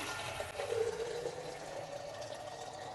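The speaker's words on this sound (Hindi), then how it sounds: "इसमें मैं पीने वाला पानी भर लेती हूँ।" Drinking water runs steadily into a clean jug during baby-bottle cleaning, a soft, continuous splashing fill with no talk.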